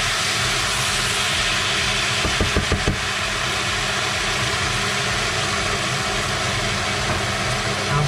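Red wine deglazing a hot pan hisses and sizzles loudly and continuously, with a few brief pops near the start and no voices.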